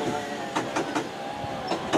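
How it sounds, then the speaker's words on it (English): Bakerloo Line 1972 stock underground train pulling out of South Kenton toward Harrow and Wealdstone, with a run of rhythmic clacks over a continuous rumble. "Off goes said Bakerloo Line train to Harrow and Wealdstone"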